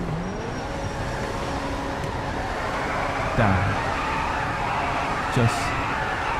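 A Grotti Carbonizzare sports car engine in the video game GTA V revs in short rising bursts over a steady background hum, with a single word spoken partway through.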